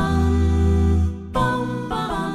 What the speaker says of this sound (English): It's called harmony, and it sounds like this.